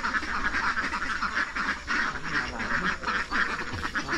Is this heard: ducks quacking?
yes